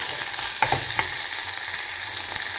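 Onions fry in a pan with a constant sizzle, and a few clinks and scrapes from a spoon stirring them come near the start, up close.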